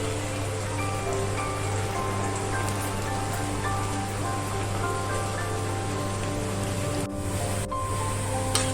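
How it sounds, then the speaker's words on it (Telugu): Chegodilu, crunchy rice-flour rings, fry gently in hot oil on a low flame, giving a steady, continuous bubbling crackle that stays close and even for the whole stretch, with no voices. "ఆయిల్ కాగింది చక్క సిమ్లో పెట్టుకుని వేయించుకుందాం"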